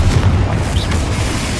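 A Confringo spell explosion in the video game Hogwarts Legacy booms loudly with deep rumbling bursts, dense and continuous throughout the short stretch.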